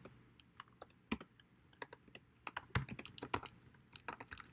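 Computer keyboard clicking as code is typed, in an irregular run of crisp, close keystrokes with short pauses between them and no talk.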